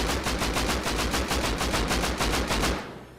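Incendiary rounds fire in the Rust video game as a rapid, evenly spaced burst of loud close gunshots, about fifteen in quick succession, ending with a fading tail.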